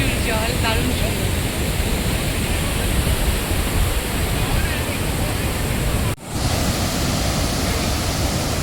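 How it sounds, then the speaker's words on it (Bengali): Bhatinda Falls pours a heavy volume of water in a steady, broadband roar that fills the scene from start to finish, with one brief dip near the end. "অপূর্ব সুন্দর ফলসটা, দারুণ সুন্দর, খুব ভালো লাগছে।"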